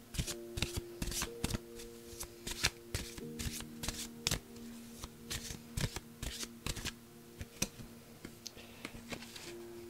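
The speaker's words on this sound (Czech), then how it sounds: "ještě mi chodí rovnou vytáhnout kartu z Andělu Hvězdného Avalonu" Angel oracle cards being shuffled and drawn, a steady run of crisp riffling snaps and soft card slaps close up, with a faint tonal hum underneath and no talking.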